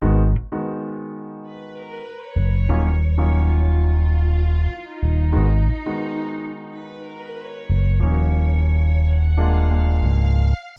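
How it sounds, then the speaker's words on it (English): Deep, loud bass line added to a hip-hop beat over keys and violin, heavy sustained low notes entering in phrases with short breaks between them. "Next I jumped onto the bass and it sounds like this."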